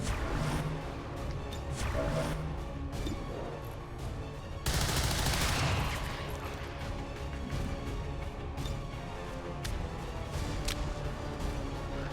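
Rapid gunfire volleys from soldiers in the XCOM 2: War of the Chosen video game, a dense, sustained crackle of shots lasting throughout, with a sharper burst midway, and no talk over it.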